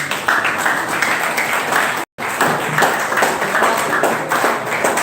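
An audience at a civil society organisations gathering claps continuously, a lively, fairly loud patter broken by a brief dropout midway, then resuming at the same even density.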